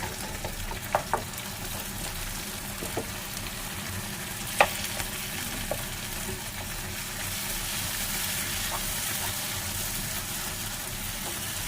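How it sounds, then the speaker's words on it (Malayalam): Tomatoes fry in a pan for fish curry, with a steady sizzle and occasional scraping clicks as they are stirred. "നമ്മൾ തക്കാളി നന്നായിട്ട് ഉണച്ചു കൊടുക്കാം തക്കാളി നല്ല വെന്തിട്ടുണ്ട് കേട്ടോ"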